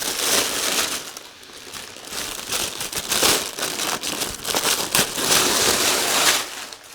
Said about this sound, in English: And then we've got this paper packaging around it. Excuse the noise.